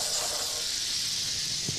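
White wine poured into a hot pan while cooking pecan crusted trout, giving a steady bright sizzling hiss that holds evenly throughout, no talk.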